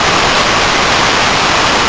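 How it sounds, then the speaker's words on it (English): A huge waterfall roaring up close in a rocky canyon, a dense, loud, continuous wash of broadband noise with no break and no voices. "huge waterfall behind that"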